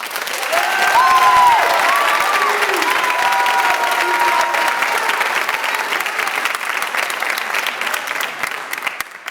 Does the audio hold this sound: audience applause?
yes